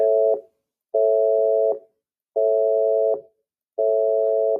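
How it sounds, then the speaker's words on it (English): A telephone busy signal repeats four times, each steady tone lasting under a second, separated by short silences. "I think it sounds a heck of a lot like a busy tone"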